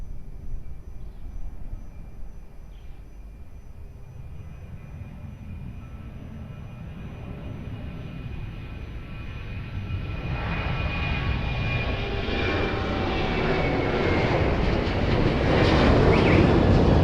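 A B747 or similar airliner taking off from runway 02 at Lisbon Airport, its jet engine roar rising steadily from a distant rumble to a loud, broad thunder as it spools up and accelerates.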